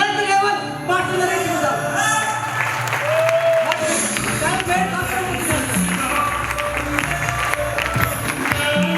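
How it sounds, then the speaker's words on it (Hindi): Audience applause for honorees at a company training event in Haridwar, steady dense clapping with cheering voices and music running throughout, loud and close. "जबरदस्त तालियां रियल में प्रधान जी के लिए, महिपाल जी के लिए जबरदस्त तालियां।"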